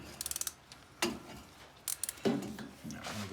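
Long wrench tightening bolts to 80 foot-pounds on a 1972 turbo Chevy Nova, a quick burst of ratcheting clicks followed by a few metallic clanks and scrapes, close and fairly quiet.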